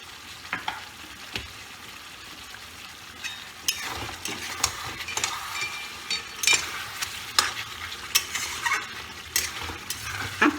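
Yogurt-marinated chicken pieces fry in a pot for biryani, crackling and spitting with sharp pops and steady sizzle under intermittent stirring scrapes, fairly close and with no one talking.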